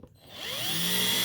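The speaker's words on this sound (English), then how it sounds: "I'm going to first reverse the drill bit until it gets to the width" A power drill whirs up steadily, its motor pitch climbing and holding as it runs in reverse on a screw in wood, close and loud after a brief quiet start.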